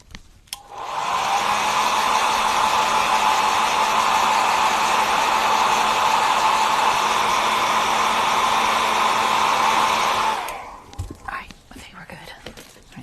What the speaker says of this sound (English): Let me hit it with the blow dryer.